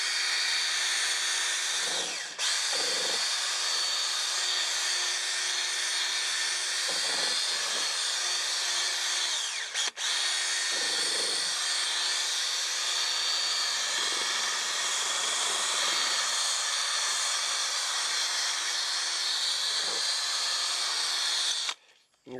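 A drill spins a 3000 grit sanding pad against a car headlight, giving a steady high whine that briefly dips and stutters a few times before stopping at the end.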